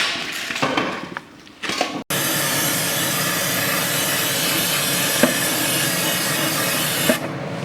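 Cheap chlorine-based brake cleaner sprayed on a BMW E36 differential in a workshop: a steady loud aerosol hiss running for about five seconds after a short pause, with faint clatter before it.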